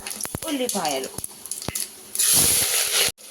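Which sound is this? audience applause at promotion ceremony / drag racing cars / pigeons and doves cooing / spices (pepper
spices (pepper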